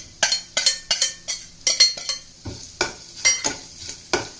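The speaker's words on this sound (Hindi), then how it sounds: "अदरक को मसाले को हम थोड़ी देर भूनेंगे।" Grated ginger fries with spices in a pan for an onion kachori filling, a soft sizzle beneath a quick series of sharp spatula scrapes and taps on the pan, about ten strokes, close and without voices.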